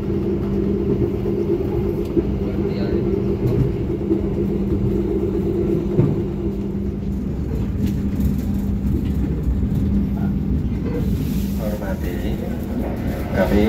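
Onboard a Malabar premium economy train running toward Malang station, a continuous low rumble and steady drone fill the carriage, with a public-address voice speaking over the noise throughout.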